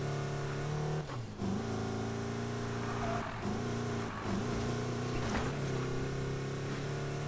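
A car engine in the Need For Speed Payback racing game drones and strains as the car struggles off-road up a hill, with a steady low growl that dips and surges in pitch several times.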